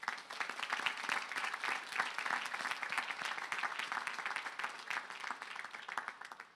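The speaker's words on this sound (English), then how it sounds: "Please join me in applauding their efforts." Sustained audience applause for faculty at a 2022 community college commencement ceremony, a dense, even patter of many hands clapping throughout, fairly faint and distant, with no voices standing out.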